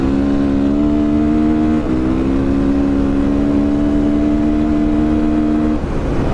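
A MotoPro 300 motorcycle runs at high speed, its engine a steady, close, high-revving drone broken by two brief dips, likely throttle changes or gear shifts.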